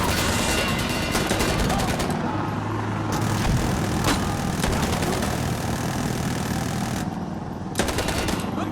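Rapid automatic gunfire from the tactical shooter game Insurgency: Sandstorm in Push mode, several loud sustained bursts with brief pauses between them over steady background battle noise.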